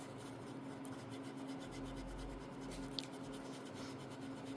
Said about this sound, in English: I'm just scuffing this off into here, getting them a little brighter while I'm in the area.